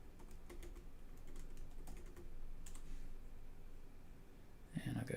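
Typing on a computer keyboard to enter a search, a quiet run of irregular key clicks with a voice speaking near the end.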